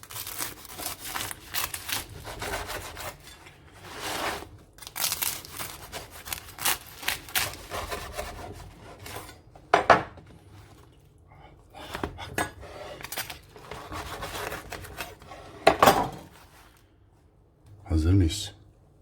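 A knife cuts through a crispy homemade Adana-style toasted sandwich, giving close, loud crunching and crackling bursts with sharp louder cracks near the end, while a person talks over the cutting.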